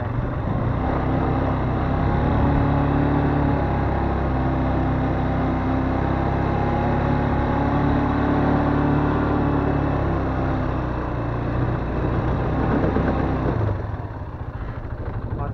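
An ATV engine runs close by in a loud, steady, throaty drone with slight rises in revs, continuous throughout and easing off near the end.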